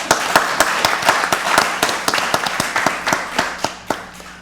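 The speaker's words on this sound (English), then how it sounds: "Give him a round of applause" Sparse applause at a county board of commissioners meeting welcoming a new staff member, a few people clapping with distinct sharp claps standing out over softer clapping, close and fairly loud.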